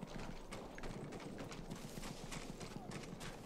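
A horse in the Battlefield 1 campaign trots with a quick, steady clip-clop of hooves, fairly faint and blended into a continuous background rumble, with a person talking over it.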